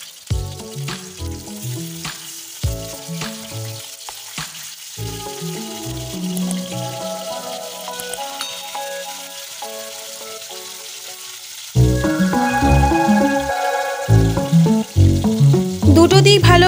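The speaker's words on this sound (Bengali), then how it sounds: "মাছগুলোর একটা সাইড ভালো করে ভাজা হয়ে গেলে এবার আমি মাছগুলোকে উল্টে ওই পিঠটা ভেজে নিচ্ছি।" Pieces of bhola bhetki fish fry in mustard oil in a kadai, turned to cook the other side; a close, continuous crackling sizzle that grows louder and busier partway through, with no talking.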